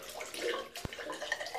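Water emptied from an Edwin Jagger porcelain shaving bowl into a sink, a short splashing pour with a brief sharp knock in the middle, heard up close.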